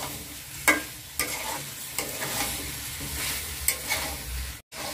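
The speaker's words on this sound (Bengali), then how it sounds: "এভাবে আলুগুলোকে দিয়ে 5 মিনিট কষিয়ে নিব" Potatoes are stir-fried in a pan with a little water, a moderate sizzle broken by a few sharp spoon knocks and scrapes as they are turned, ending in a brief cut to silence.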